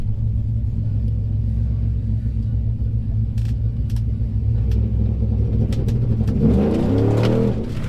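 A 2018 GMC Denali truck with a 6.2 V8 in four-wheel drive, rumbling loudly up close, then rising sharply into a revving surge as it accelerates near the end.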